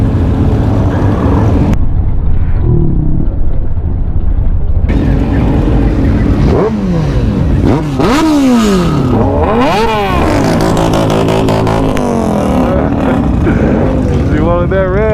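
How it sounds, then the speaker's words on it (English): A motorcycle at Daytona Bike Week revs hard several times through a loud exhaust, each rev climbing and falling in pitch, up close with bursts of crowd and street noise around it. "You wanted that rev, you got it."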